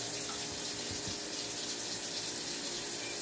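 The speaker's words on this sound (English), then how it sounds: "Rinse it off one more time." Tap water runs steadily over a raw Atlantic salmon being rinsed in a sink, a continuous close splashing gush with no speech.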